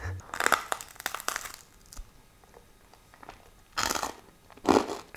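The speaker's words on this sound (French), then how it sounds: "Ça croustille fort." Loud, close crunching of food being chewed, coming in several bursts with quiet pauses between bites, no talking.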